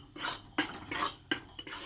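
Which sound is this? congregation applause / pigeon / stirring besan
stirring besan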